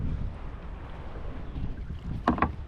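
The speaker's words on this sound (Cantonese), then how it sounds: "咁就吹緊呢3至4級東風啊。" An east wind of force 3 to 4 blows over a quiet bay in Sai Kung, Hong Kong, making a steady low rumble and buffeting against the microphone, with a brief louder rustle near the end and no talk.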